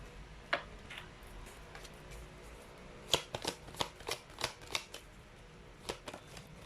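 Tarot cards being shuffled, a few quiet riffles early followed by a quick run of crisp card snaps and flicks, then two more, close and faint with no talking.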